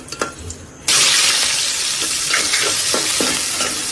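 Hot oil for tempering lentils with fried egg and onion hits the pan with a sudden loud sizzle that stays strong and crackling, preceded by a few faint kitchen clinks.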